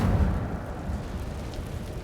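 The Incendio fire spell in the video game Hogwarts Legacy, a dense rumbling whoosh of flame that is strongest at the start and then holds as a steady roar.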